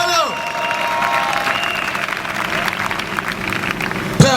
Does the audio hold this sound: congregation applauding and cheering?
yes